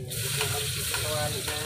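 Onions added to a hot frying pan for ginisang upo, a close, steady sizzle with a few stirring scrapes over a short stretch, no voices.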